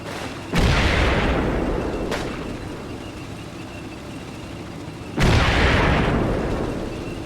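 Two heavy 88mm shell explosions in the Combat Mission Red Thunder war game, each a sudden loud boom that rumbles away slowly, a few seconds apart, with a fainter crack in between.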